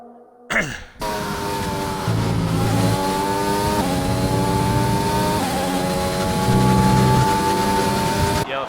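Engine of a pink Mercedes F1 car in a racing video game league on the Austria circuit: a loud, close, high-revving whine that climbs through the gears with repeated upshifts, steady and prominent.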